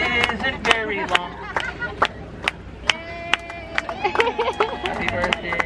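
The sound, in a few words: audience clapping on Disneyland Jungle Cruise boat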